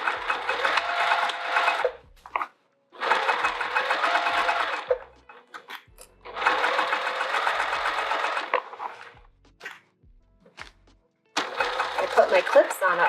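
A home sewing machine stitches a bucket tote in loud, close, rapid bursts of whirring. The bursts are separated by short pauses.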